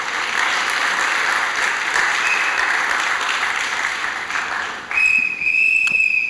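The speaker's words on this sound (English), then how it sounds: "please a little applause for me to feel at home" An audience at a rally claps in a dense, sustained wash of applause that dips briefly near the end, then swells again with a few sharper claps.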